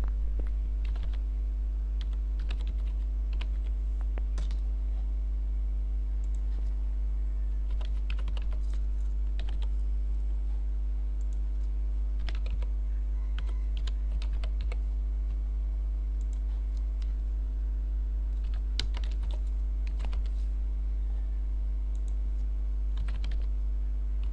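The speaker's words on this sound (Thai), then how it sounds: "ผมจะแยกพิมพ์ทีละบรรทัดเลยนะครับ" Steady computer keyboard typing as menu headings are entered one line at a time, with clear individual key clicks over a constant low electrical hum, no talking.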